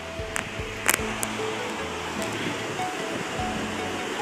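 The Jalbire river in Sindhupalchok rushes past in a steady, broadband roar of flowing water, close and continuous, with a few brief knocks and a faint voice over it.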